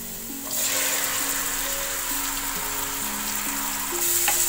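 Chickpeas dropped into a hot pan of oil with green chillies for a chana chaat, setting off a loud, steady sizzle that swells as they land and keeps crackling close by.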